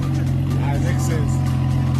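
A car with its resonator and muffler deleted, fitted with dual exhaust pipes, idles and revs with a loud, steady, close engine drone.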